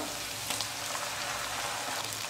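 Ground tomato paste sizzles and spatters steadily in hot oil for kara kulambu, a bright continuous frying hiss with occasional crackles, close and fairly loud.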